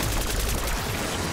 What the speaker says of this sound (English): Now we shoot the fuse boxes.